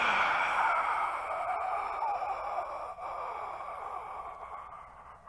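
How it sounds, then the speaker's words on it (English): A long, steady breathy exhale fills the quiet during a breathing exercise for hip flexor strength, fading slowly as the air runs out. "Exhale."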